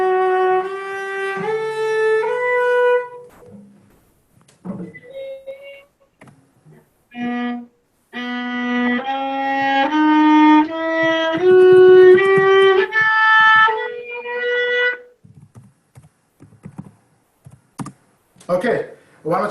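A cello plays a slow rising scale, bowed note by note with clear stepped pitches, then a higher run follows after a short pause; moderately loud and close, with no talking over it.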